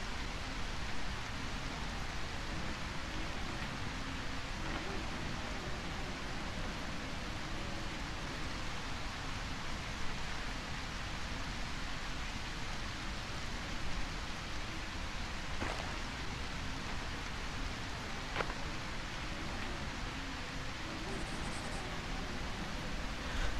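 Steady rain falling in the video game A Quiet Place: The Road Ahead, a constant even hiss throughout with no talking.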